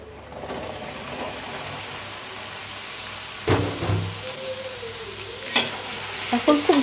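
Mixed vegetables stir-fry in a cooked spice paste, a dense close sizzle with scraping spoon strokes that swell around the middle and toward the end.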